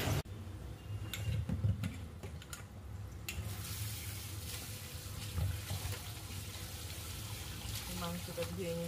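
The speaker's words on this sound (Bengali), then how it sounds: "মাংসটা ধুয়ে নিচ্ছি।" Tap water runs steadily over meat being washed in a kitchen sink, a continuous splashing rush with occasional clatter and handling noises, close by and moderately loud.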